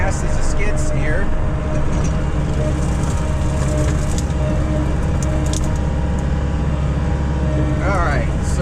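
A Mecalac 6MCR excavator engine running loud and steady at close range, a continuous low drone throughout with faint squeaks of moving parts.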